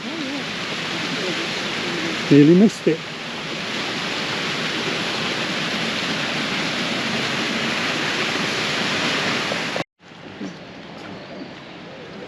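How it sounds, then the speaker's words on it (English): A garden waterfall at Audley End House pours as a loud, steady broadband rush close by. A brief voice cuts in, and the rush stops abruptly near the end, leaving quieter ambience. "Oh, you got the waterfall there, do you?"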